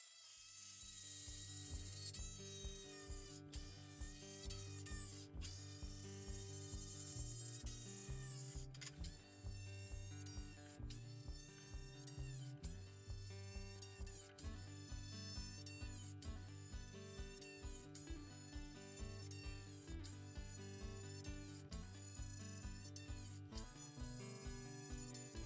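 A Makita cordless drill drives big bolts, its steady motor whine broken by a regular series of mechanical clicks and ratcheting pulses repeating for about twenty-five seconds, close and without talk.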